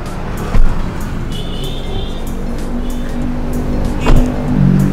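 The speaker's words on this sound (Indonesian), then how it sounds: "Ini kondisi mobil hidup ya." A 2013 Lexus RX270 engine running at idle, a steady low hum with faint mechanical whirring and a couple of soft thumps, close by and without talk.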